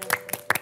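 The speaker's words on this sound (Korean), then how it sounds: "일단 박수 한번" A few quick hand claps in a TV studio, three or four distinct smacks close to the microphone with a faint tone in the background.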